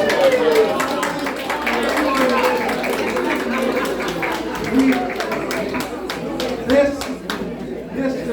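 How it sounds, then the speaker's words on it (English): Audience applause at a fundraiser brunch: a steady wash of many hands clapping throughout, with crowd chatter and a voice speaking over it. "Please give her a round of applause."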